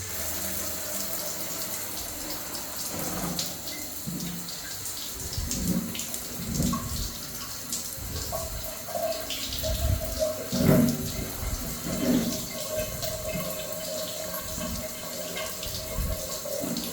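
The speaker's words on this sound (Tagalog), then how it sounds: "Try natin siyang hugasan." Tap water runs steadily as a dead skin spa brush is rinsed at home, a constant splashing hiss with brief irregular bursts where the brush meets the stream, no one talking.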